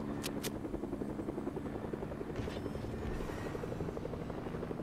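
A helicopter circles overhead in a Fortnite esports match, its rapid rotor chop pulsing steadily at close range, with a couple of sharp high clicks at the start and no talk.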